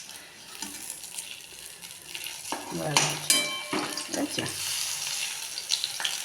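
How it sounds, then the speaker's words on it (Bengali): Thankuni leaves coated in gram flour batter frying as fritters in hot oil, a continuous bubbling sizzle with metal utensil clinks and scraping in the middle, and a single brief spoken word. "এই যে বড়া ভাজছি,"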